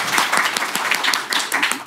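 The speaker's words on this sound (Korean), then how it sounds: "일단 소개하기 전에 박수 부탁드립니다" A seminar audience applauds, with dense, rapid clapping from many hands filling the short moment.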